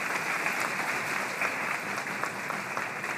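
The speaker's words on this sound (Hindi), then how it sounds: "From all wings of the hall के सभी wings से हमें तालियां चाहिए जोरदार" A packed hall at a government silk-farming event breaks into loud, steady applause, dense clapping from many people filling every wing of the room.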